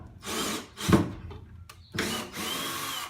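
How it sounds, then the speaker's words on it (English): Power drill pre-drilling holes in hard wood while installing overhead garage shelves, four separate whirring bursts of boring with short pauses and a bump between them, close and fairly loud. "I'm going to use this to pre-drill these holes"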